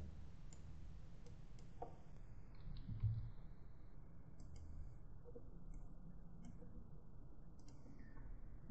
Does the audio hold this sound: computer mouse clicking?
yes